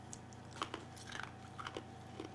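Brittle homemade toffee cracks and snaps in a series of sharp, close crunches at irregular intervals, fairly faint against a quiet background.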